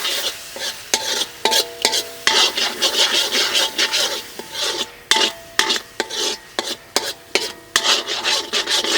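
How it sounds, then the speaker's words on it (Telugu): A spoon works an egg curry with spices around a pan in repeated rhythmic scrapes and rubs, with a soft sizzle from the cooking underneath. "ఇదంతా ఒక 3 నిమిషాల పాటు బాగా కలుపుకుందాం"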